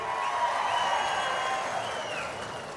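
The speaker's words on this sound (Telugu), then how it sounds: "కష్టపడిన వాళ్ళందరికీ గట్టిగా చప్పట్లు కొట్టి అభినందించండి" An audience at a public event attended by CM Chandrababu breaks into steady applause, a dense wash of clapping held at an even level throughout.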